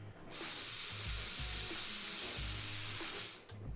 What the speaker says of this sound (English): This is my new toothbrush. It's super fucking loud.